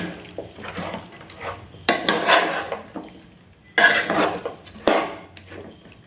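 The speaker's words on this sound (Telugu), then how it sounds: "ఇప్పుడు దీన్ని మంచిగా మిక్స్ చేసేసుకుందాం." Chicken pulao with curry leaves being mixed in a cooking pot: bursts of scraping and clattering from a utensil against the pot, with quieter stirring in between. No voices.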